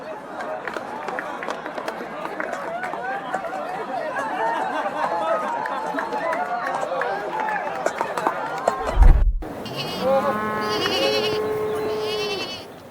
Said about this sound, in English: In the early 1500s, Smithfield Market was loud, muddy, and crowded with cattle, sheep, and horses.